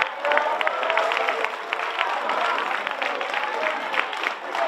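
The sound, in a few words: audience applause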